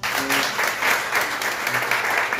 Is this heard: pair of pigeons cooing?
no